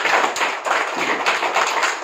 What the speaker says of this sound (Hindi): उनको थोड़ा सा आप ताली बजाते रहे, वो अपने उठ जाएंगे